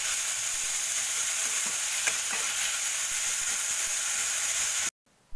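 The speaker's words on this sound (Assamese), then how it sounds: "এইখিনি গোটেইখিনি একেলগে ইয়াতে দি পেলাই অলপমান ভাজি ল'ম।" Shredded chicken and mashed boiled potato frying together in a pan, a steady close sizzle with a few stirring scrapes, cut off briefly near the end.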